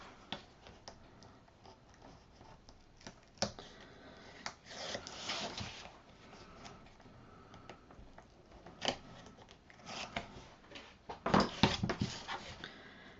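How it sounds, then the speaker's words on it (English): Backing peeled from score tape at a craft table, heard as soft, faint crackling and sharp ticking pulls in irregular bursts, a few louder rips near the end, with no voices. "we're going to take the backing off our score tape."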